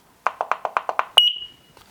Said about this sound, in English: You see the beeping?